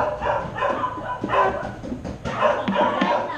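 A dog barks and yips repeatedly amid a busy, noisy room with people talking in the background.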